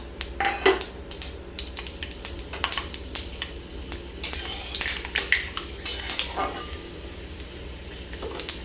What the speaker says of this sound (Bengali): সবার প্রথমে আমি এতে দিয়ে দিব এক টেবিল স্পুন পাঁচফোড়ন